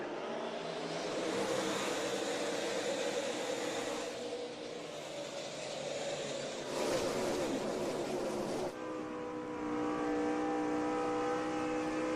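A NASCAR race car engine roars from the onboard camera during the 2007 Coca-Cola 600, with a loud continuous drone that rises and shifts pitch as it accelerates away at the green flag.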